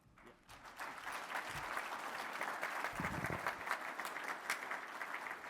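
An audience applauds at a counter-terrorism event in Carlisle, with steady, sustained clapping from a crowd that stays even and moderately distant throughout.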